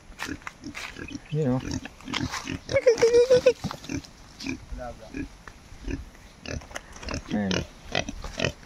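Pigs grunt and snort repeatedly close by outdoors, scattered through the clip, while people talk over them.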